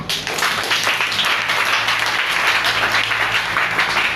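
Sustained, even applause from a church congregation during a worship service, dense clapping close and loud throughout with little change in intensity.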